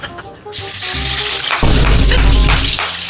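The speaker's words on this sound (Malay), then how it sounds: "Aku goreng ah." Food frying in a pan in a home kitchen during a pre-dawn sahur meal, a loud steady sizzle that swells sharply partway through as ingredients hit the hot oil, with faint water and stirring noises.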